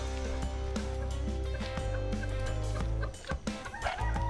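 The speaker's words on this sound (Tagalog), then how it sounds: "Dami na yung manok dito, may sisiw pa." Chickens cluck and murmur steadily over a low background hum, with a few sharper calls and brief rustling near the end.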